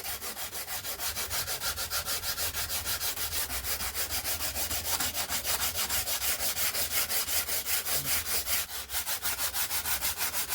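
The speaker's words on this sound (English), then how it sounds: "just working between the ribs with the sanding block" A sanding block fitted with 80 grit sandpaper rubs back and forth across the balsa ribs of an RC glider wing, a rapid, even scratching rhythm of close strokes that continues throughout with no talk.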